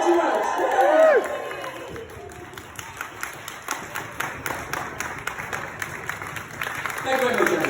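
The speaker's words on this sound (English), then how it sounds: "giving her the most enormous round of applause that you have given anyone ever" Wedding guests applaud and cheer, a whoop and voices at the start, then steady clapping from a crowd, with talk rising again at the end.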